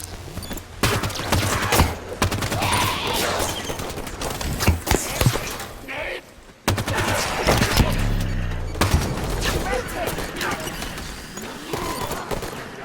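Rapid automatic weapon fire from enemies in the video game Halo 5 Guardians, sustained bursts with thumps and impacts, loud and dense over most of the stretch with a brief lull midway.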